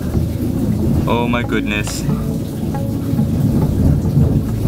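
A thunderstorm with steady heavy rain and rolling rumbles of thunder, loud and close, under a brief excited exclamation from a man.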